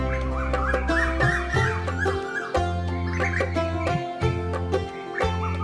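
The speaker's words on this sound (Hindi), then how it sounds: "सुबह होते ही खेतों में किसानों की आवाजें और चिड़ियों की चहचहाट सुनाई देने लगती थी।" Village morning bird and fowl calls, with chicken-like clucks and tonal calls repeating over a sustained droning background, fairly close and loud.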